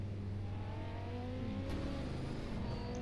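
A steady, droning race car engine hum in the video game Automobilista at Daytona road course, rising whirring pitch, continuous and moderately loud, with no voices.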